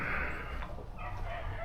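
A rooster calls close by in a backyard poultry setting, a short rough crowing sound running across the whole moment with no talk over it.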